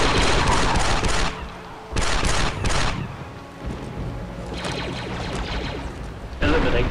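Heavy turret fire in the video game Star Wars Republic Commando, loud sustained bursts broken by short lulls, with a voice speaking over the battle.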